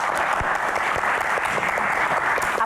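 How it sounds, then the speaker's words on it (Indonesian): Dense, loud audience applause at a talk event, continuous clapping from many hands sustained throughout at an even level. "Tepuk tangan untuk Axel sebagai"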